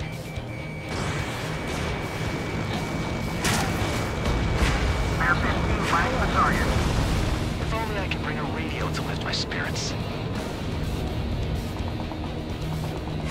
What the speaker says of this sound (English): that was a lot of anti-aircraft fire down there